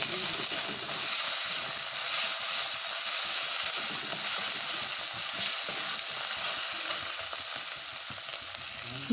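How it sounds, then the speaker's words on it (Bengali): A cumin-coriander paste with chili and turmeric fries steadily in a pan for a green-banana kofta curry, giving a continuous close hissing sizzle with faint stirring textures and no voices. "লঙ্কা আর হলুদ দিয়ে আরও বেশ কিছুক্ষণ কষে নেবো"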